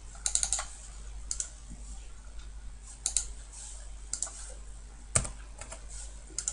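Someone types on a computer keyboard while working in CAD software. Quick clusters of light key clicks come in short, uneven bursts separated by pauses, close and quiet, over a faint low hum.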